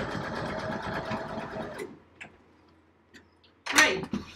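A sewing machine runs a zigzag stitch in a steady mechanical chatter for nearly two seconds, then stops; a few soft clicks follow and a sharp rustle closes the clip.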